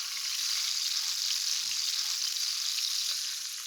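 Onions and tomatoes for a ricotta frittata frying in a pan, a steady close bright sizzle throughout with one soft stir near the middle.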